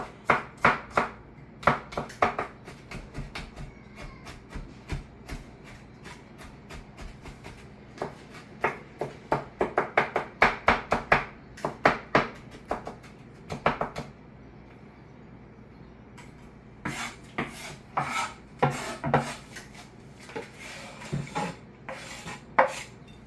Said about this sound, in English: And last, I'm gonna be prepping my scallions.